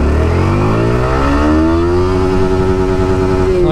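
A Yamaha R15M or Pulsar 220F motorcycle is revved hard through the gears during a speed test, making a loud, close engine roar whose pitch climbs steadily and then levels off, with no voice.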